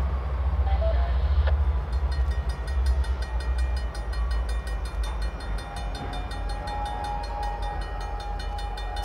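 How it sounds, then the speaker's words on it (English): Diesel freight locomotives, a red-nosed SD60 and Illinois Central SD70s totaling 11,800 horsepower, building an outbound ore train on Pennsylvania's Bessemer route: a deep steady engine rumble with a short horn-like tone early on and faint rail clatter. "A red-nose SD-60 and a couple of Illinois Central SD-70s"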